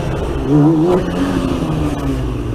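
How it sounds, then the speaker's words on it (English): A motorcycle engine revs up loud and close, then the clutch drops for a beginner's wheelie, with a rising, wavering engine tone that holds steady and continuous. "Rev up the bike a little bit. And then all you're going to do, drop the clutch."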